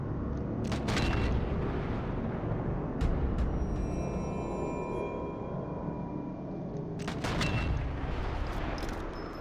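Two sniper rifle shots fired in the video game Sniper 4, heard as sharp, loud reports over a constant rumbling game ambience, one shortly after the start and a second near the end.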